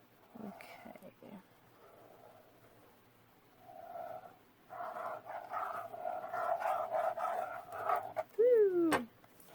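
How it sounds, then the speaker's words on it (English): A dog barks and whimpers indoors in a few short bursts, then yelps in a rising, sliding cry near the end, heard close and alone between quieter moments. "Oh my gosh, that dog."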